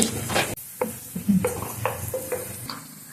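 Two finely chopped onions fry in a pan after cumin seeds, giving a soft sizzle with clinks and scrapes of a spoon stirring, fairly close, with no talking.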